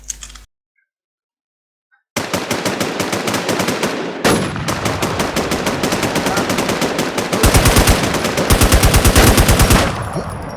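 Automatic gunfire in the video game Warz HexZ rattles in long rapid bursts after a brief silence, loud and close, with the firing growing heavier toward the end.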